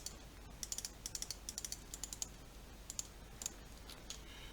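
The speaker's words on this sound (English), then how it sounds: "Sorry for the noisy clicking." Computer keyboard typing, quiet and close, in irregular bursts of rapid clicks with short pauses between them.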